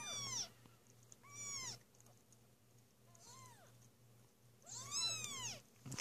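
Newborn kittens from a summer litter meow in high, thin, rising-and-falling cries, several bursts overlapping close by, with a low steady hum beneath and no talking.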